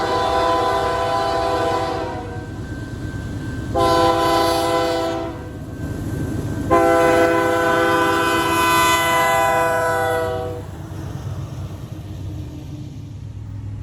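The CP Leader train rolls past railway signals while its horn sounds loud, chord-like blasts: a short one, then a longer sustained blast. Steady wheel rumble continues underneath and after.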